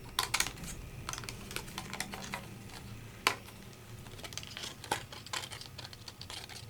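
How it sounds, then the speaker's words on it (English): Scissors snip through paper around a die-cut Victorian border, a series of short crisp cuts spaced irregularly, with one sharper cut near the middle, close and fairly quiet with no talking. "all I have to do is snip here and there"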